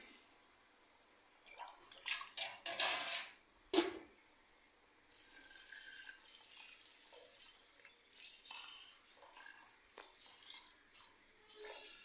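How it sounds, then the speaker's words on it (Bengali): Hot water is poured into a pot holding a kilo of rice, with faint, intermittent splashing and trickling in short bursts against a quiet background. "গরম পানি দিয়ে দিচ্ছে"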